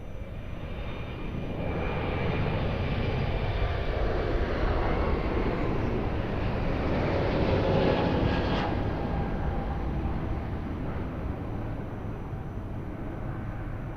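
An airliner taking off from a runway at Lisbon Airport, a broad distant engine roar that swells into a steady rumble and then holds for over ten seconds.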